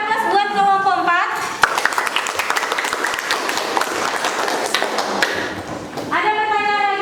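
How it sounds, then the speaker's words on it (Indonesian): Students in a classroom burst into a loud round of clapping for group 4 that lasts several seconds, bracketed by a sustained electronic tone at start and end. "Kasih aplaus buat kelompok 4"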